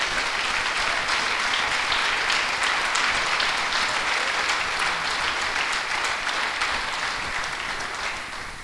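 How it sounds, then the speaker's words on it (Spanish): A Spanish-speaking church congregation gives sustained, loud, even applause during a sermon; the clapping continues steadily and tapers slightly at the end. "dale un fuerte aplauso, porque Él se lo merece."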